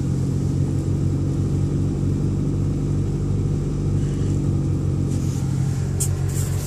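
A 1989 Geo Tracker engine idles after a cold start, a steady, loud low rumble that holds an even pitch throughout, with a brief higher rattle near the end.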